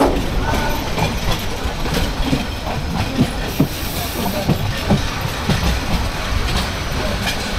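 A passenger train from Sylhet rolls along the tracks at Akhaura with a steady rumble and rhythmic wheel clatter, heard nearby with faint voices in the background.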